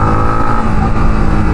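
Yamaha MT15 BS6 motorcycle accelerating on an open road, its engine note loud and close with a steady, rising drone and no talking over it.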